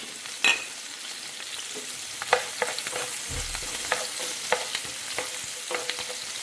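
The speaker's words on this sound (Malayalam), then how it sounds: "അതിന് മുന്നേ പച്ചമുളക് നമുക്ക് വറുത്തെടുക്കാം." Green chillies fry in hot oil in a pan with a steady bright sizzle, broken by scattered crackles and spoon taps as they are stirred, close and continuous.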